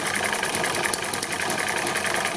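An Eachine ET7 hit-and-miss model engine runs steadily nearby, a dense, continuous rapid chugging and clattering of small moving parts that keeps an even level throughout.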